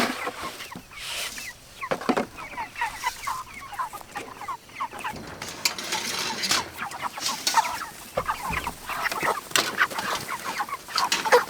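Chickens in a low-profile chicken tractor cluck and murmur continuously, several birds close by with overlapping bursts of clucking and no talking.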